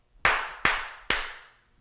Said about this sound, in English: I'm going to go ahead and do a three clap so I can sync this up.